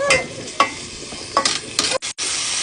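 Goat meat pan-frying, only half cooked, ahead of a simple kaldereta stew: a loud, steady sizzle broken by several sharp stirring scrapes and clatters, with two short dropouts near the end.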